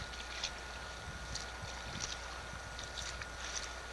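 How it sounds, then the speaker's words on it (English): Wind rushing over open Arctic water near Arctic Bay, Nunavut, heard from a solo kayak as a steady breathy roar with soft splashes and knocks from the boat, no talking. "And the wind is freshening here a little bit."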